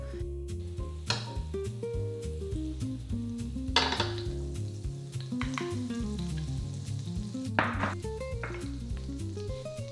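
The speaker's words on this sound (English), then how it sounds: "The batter sizzles." Butter sizzles steadily in a hot pan, with a few louder crackling bursts and faint clinks of cookware over continuous frying hiss.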